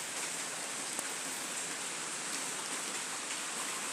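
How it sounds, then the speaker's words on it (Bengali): Heavy afternoon rain pouring steadily, a dense, unbroken hiss of falling water, loud and even throughout with no other sounds. "প্রচুর বৃষ্টি হয়েছে আজকে, একদম দুপুর থেকে শুরু করে বিকেলে তো আরো জোরে আসছে।"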